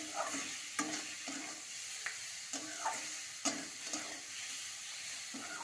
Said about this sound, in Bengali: মরিচ পাউডার দিয়ে ভালো করে কষাবো